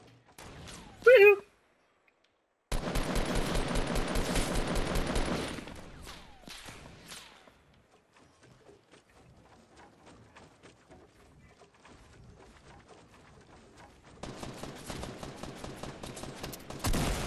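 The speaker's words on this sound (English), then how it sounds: "Stop shooting at me like that." Gunfire aimed at the player in a Fortnite match, dense rapid bursts in two long loud stretches with quieter gaps and scattered shots between, alongside brief speech from the player.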